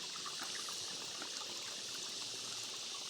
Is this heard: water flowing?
yes